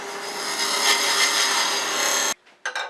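Skew chisel cutting beads on a wood lathe, a steady loud scraping whir of the blade against spinning wood that runs unbroken for over two seconds, then stops abruptly and leaves a couple of short faint scrapes.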